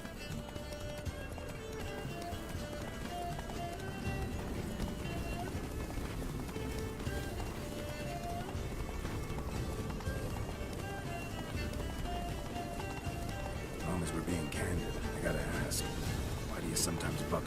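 Roach, a horse in The Witcher 3, gallops with steady, continuous hoofbeats under an orchestral game score while characters talk.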